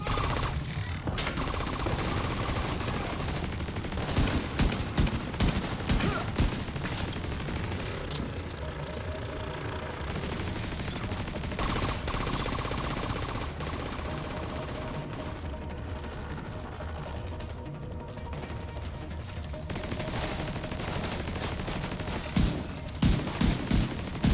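Rapid shotgun blasts and heavy gunfire in the video game Division 2, a dense, loud, continuous barrage with repeated sharp bursts throughout and occasional brief lulls.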